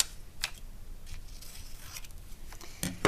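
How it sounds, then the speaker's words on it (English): Scissors snipping through paper nearby, a series of short crisp cuts and slides over a faint background hiss. "I'm going to take my scissors. I'm going to cut that out real quick."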